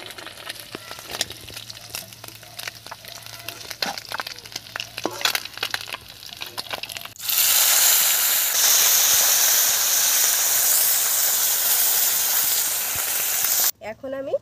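Small live mourala fish hit hot oil and burst into a loud, dense sizzle that holds steady for several seconds before cutting off, preceded by quieter kitchen clatter and light crackling.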